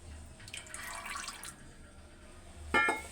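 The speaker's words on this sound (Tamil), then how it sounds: "இதில் 300 நல்லெண்ணெய் ஊற்றுறோம்." Sesame oil poured into a pot already holding coconut oil, a gentle liquid trickle and splash near the pot with a sharper clink near the end.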